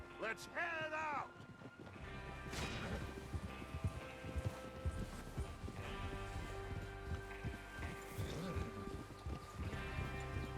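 Horse hooves clip-clop at a steady pace amid outdoor ambience in the video game Red Dead Redemption 2, with a horse whinny at the start and voices talking throughout.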